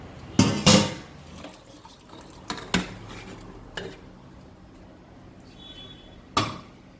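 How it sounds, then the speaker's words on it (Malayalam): Washed banana flower tipped into a metal colander to drain, heard as a few sharp clattering knocks and rattles of the vessel, close by, spaced out over several seconds with quieter handling in between and no talking. "എല്ലാം വാർന്നു പോകുന്നതിന് വേണ്ടി അരിപ്പ പാത്രത്തിലേക്ക് ഇത് ഒഴിച്ചു കൊടുക്കുക."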